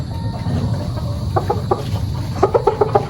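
Sweater-breed gamecock stag rooster at a gamefowl yard giving a few clucking bursts, near and moderately loud, with one short call then a quicker run of four clucks over a low steady background hum.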